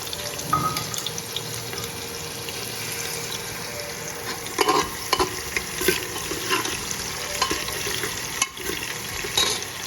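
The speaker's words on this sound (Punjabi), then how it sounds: "ਉਸ ਤੋਂ ਬਾਅਦ ਨਾਲ ਪਾ ਦਾਂਗੇ ਪਿਆਜ਼ ਜੀਰਾ ਭੁੰਨਣ ਤੋਂ ਬਾਅਦ" Onion fries in a pan with whole cumin seeds roasted in oil, a steady close sizzle with intermittent scraping as the mixture is stirred.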